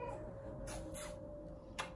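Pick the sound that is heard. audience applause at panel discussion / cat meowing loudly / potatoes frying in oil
cat meowing loudly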